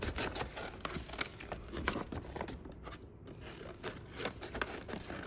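Scissors snip through extra outside paper in quick chunk cuts, a close run of crisp, repeated blade strokes and paper rustle with no talking.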